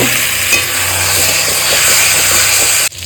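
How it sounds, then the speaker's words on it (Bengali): Masala paste with ginger and onion sizzles loudly and steadily in a pan as it is sautéed, a dense continuous frying hiss with faint stirring scrapes, cutting off abruptly at the end. "এই পুরোটা মশলাটা দিয়ে দেবো দিয়ে ভালো করে কষাবো"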